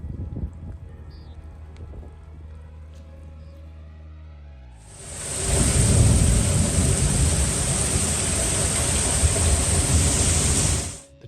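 A deep, roaring rumble of thunder from a nighttime lightning storm in central Texas, rolling in abruptly after quiet and sustained loudly for several seconds before cutting off.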